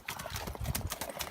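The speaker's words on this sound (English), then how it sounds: "Just watching a horse gallop and do a tunt." An Icelandic horse moves at a tölt, its hooves clip-clopping in a quick, even four-beat rhythm, close and steady over faint outdoor noise.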